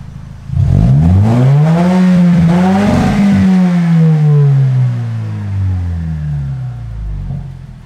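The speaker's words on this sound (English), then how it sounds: "now we can hear some revs" A Lexus IS 300's inline-four engine revs loudly through its exhaust, its pitch sweeping up and down through several throttle blips before settling into a steady drone, close and continuous.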